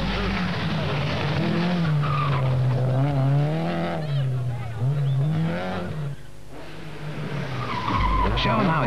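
A 1983 Belgian rally car is driven flat out, its engine revving and droning loudly while tyres skid and squeal on the stage, close and continuous, with a brief dip before the engine surges again.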